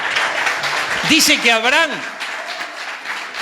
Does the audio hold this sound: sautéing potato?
no